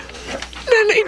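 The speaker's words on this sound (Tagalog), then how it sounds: "Ang mga aso." Dogs whimper and pant softly on a stormy night, short whining cries rising near the end of a brief moment, close by.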